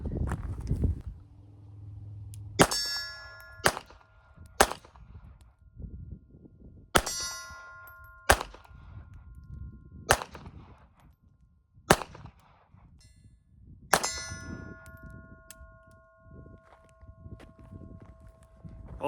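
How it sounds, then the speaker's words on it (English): Pistol rounds from a Beretta Tomcat .32 ACP strike steel targets at a 25-yard range, each hit a sharp metallic clang with ringing tones, about nine spaced irregularly over a low background rumble. "So we're gonna just try to get some rounds downrange with it."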